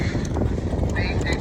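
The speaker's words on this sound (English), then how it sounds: "First horse round of the day." A horse gallops across a British Eventing BE100 cross-country course at horse trials, its rhythmic hoofbeats steady and fairly close throughout, mixed with outdoor wind noise and a spectator's voice speaking.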